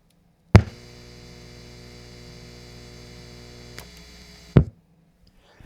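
An old guitar amp running on clean grid power hums steadily with a low buzzing tone, framed by a loud click at the start and another pop at the end.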